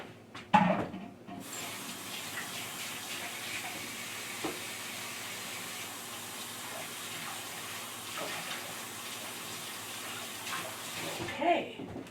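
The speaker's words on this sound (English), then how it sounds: "wash my hands." Tap water runs steadily into a sink while hands are washed in a kitchen, a constant close splashing hiss with a few clunks near the start and end.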